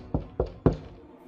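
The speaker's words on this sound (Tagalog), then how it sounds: "biglang may kumatok sa pintuan." Three sharp, close knocks on a door, evenly spaced and firm, stand alone with only a soft room hum around them.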